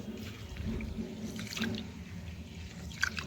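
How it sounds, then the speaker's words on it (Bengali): Rice being washed by hand in water: a steady, soft sloshing and trickling with light drips, close and fairly quiet, without talk. "তো এখন এই চাল আমি ভালোভাবে ধুয়ে নেব।"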